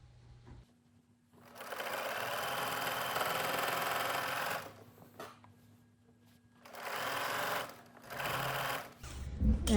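A sewing machine stitches a minky blanket quilt in two long, steady runs of rapid mechanical whirring, separated by a short pause, with a brief restart near the end.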